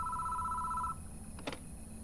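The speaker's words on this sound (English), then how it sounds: "We can hear a phone ringing inside the station before it stops." Telephone ringing inside a station in the video game Spirit Hunter: NG, a steady electronic ring for about a second that then stops, followed by faint background hum and a brief soft click.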